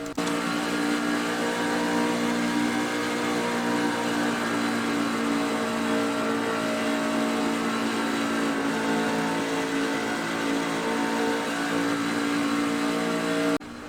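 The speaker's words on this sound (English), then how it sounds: "Ease off the throttle for a little bit, then back into the throttle at the apex." In the iRacing sim, a race truck engine holds a steady, loud mid-pitched drone with slight throttle variation, running continuously with no talk until it cuts off at the end.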